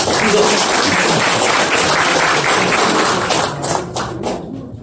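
Audience applause at a Yonsei University ROTC forum in a meeting room, a dense, loud wash of clapping that holds steady before thinning and tapering off in the final second.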